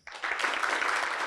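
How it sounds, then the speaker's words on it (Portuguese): A conference audience bursts into brief applause on cue, with clapping starting abruptly and holding steady for about a second. "Palmas para o Kaizen, palmas."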